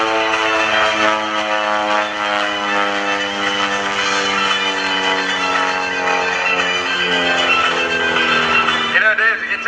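Pitts S-1S aerobatic propeller biplane flown by Jason Flood at the Wheels and Wings airshow in Hamilton, New Jersey, engine droning steadily with a strong harmonic whine that shifts slightly in pitch as it passes, loud and continuous, with faint talk underneath.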